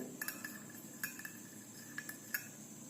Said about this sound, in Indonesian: Aduk sampai air dan kayu putih ini menyatu.